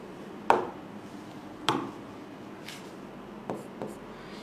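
Chalk or a marker tapping and writing math on a board, giving four or five separate sharp taps with brief scratchy strokes, spaced irregularly over a quiet room hum.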